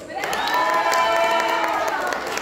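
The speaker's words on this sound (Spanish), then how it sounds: "Lo vamos a hacer con aplausos." Crowd at a youth mariachi dance contest applauding and cheering a contestant, a sustained blend of clapping, shouts and voices over tonal music, fairly loud and even throughout with no pause.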